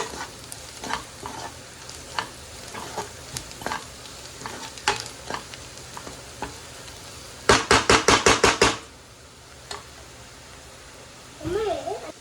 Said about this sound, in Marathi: सो ते थोडंसं आपण मसाले मिक्स करून घेऊया प्रॉपर असे